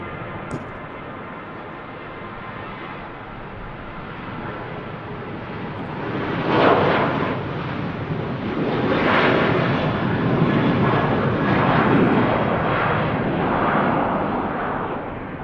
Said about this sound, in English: Ryanair heading off to Prague. The Boeing 737-800 series.